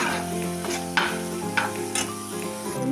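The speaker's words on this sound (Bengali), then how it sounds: "আমার চিংড়ি মাছটা একদম লাল লাল করে ভাজা হয়ে গেছে" Shrimp fry in a hot pan with a steady, close sizzle, broken by a few sharp clinks and scrapes of stirring; no one speaks.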